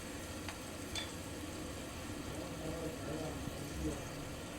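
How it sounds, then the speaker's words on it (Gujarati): Spice masala roasts and is stirred in a pan, a faint steady sizzle with occasional soft scrapes and ticks, low and continuous throughout. "આપણે મસાલાને એકથી બે સેકન્ડ માટે શેકાવા દેશું"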